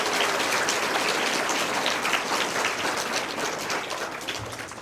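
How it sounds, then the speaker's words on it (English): An audience at a fifth grade graduation ceremony claps, a dense, steady round of applause that carries on throughout and tapers only slightly toward the end. "Let's give them a round of applause."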